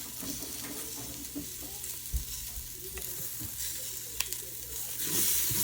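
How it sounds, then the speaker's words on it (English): Tomato paste from a tube caramelizing in a hot pan as a base for Hawaiian-style beef stew, a steady close sizzle with occasional scraping stirs and small pops, no voices. "make sure you caramelize your tomato paste"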